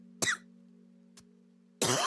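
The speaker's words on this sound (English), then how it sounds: "I'm coughing a lot." Two harsh coughs from a sick streamer, one near the start and a louder burst at the end, with a faint short cough between and a steady low electrical hum throughout.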